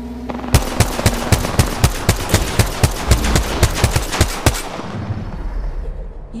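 A G7 Scout rifle fires in Apex Legends, about seventeen sharp, evenly spaced shots in quick succession, loud and close, before the firing stops and a soft tail fades out.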